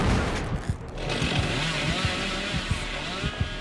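A rough, buzzing chainsaw engine in the video game Dead by Daylight drones continuously with uneven revving bursts over a noisy, cluttered background.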